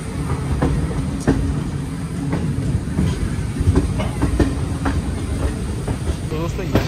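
Passenger express train rolling along the rails near Raipur junction in Chhattisgarh, with a steady loud rumble and repeated clickety-clack wheel beats over the joints throughout.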